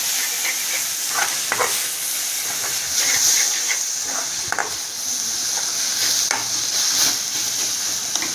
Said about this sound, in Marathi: आणि पूर्ण ढवळून घ्या जसं की ते कांदा टमाटाला मसाला लावून एकजीव होऊन जाईल.